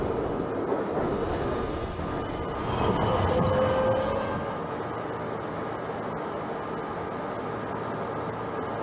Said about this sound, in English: This is a Manhattan-bound J-Skip stop train.